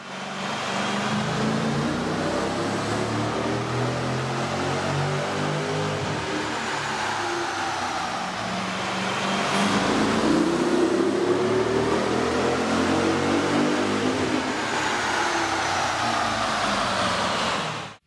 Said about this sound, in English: With the air intake installed, we ran the vehicle on the dyno to test the sound comparison versus the stock intake.